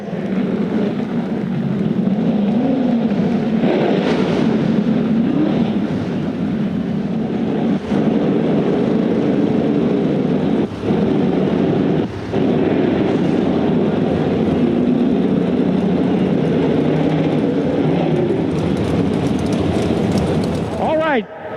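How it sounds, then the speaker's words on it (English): Racing engines of USAC Silver Crown cars at the DuQuoin, Illinois dirt track fire up and rumble steadily, loud and continuous with a brief rising roar near the end. "Gentlemen, start your engines."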